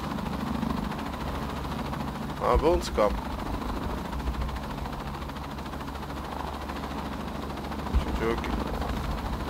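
A helicopter in the video game Shadow of the Tomb Raider thrums as a steady low rotor drone throughout, with a couple of brief sharp bursts, under a player talking.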